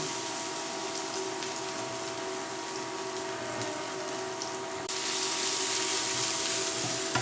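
Ginger paste, garlic and cumin frying in hot oil in a frying pan give a steady, even sizzle with a faint hum, growing slightly louder and brighter partway through.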